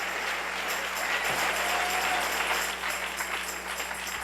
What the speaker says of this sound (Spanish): Dale un aplauso al Rey en esta preciosa mañana.